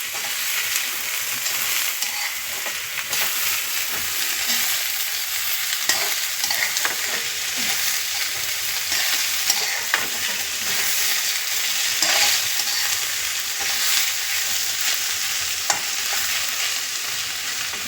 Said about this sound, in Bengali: টমেটো কুচিটা দিয়েও ভালো করে মিশিয়ে দেবো।